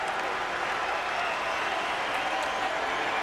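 A basketball arena crowd at a 2005 Toronto Raptors versus Cleveland Cavaliers game roars steadily after a hard foul, a dense continuous wash of voices and scattered clapping with no clear breaks.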